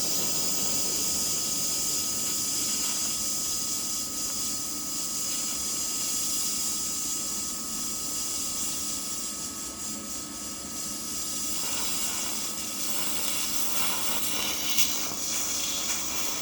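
Welding arc from a DecaPower PMCT205BV budget multi-process welder, a continuous close hiss and crackle holding steady at fairly even loudness throughout, with no talk over it.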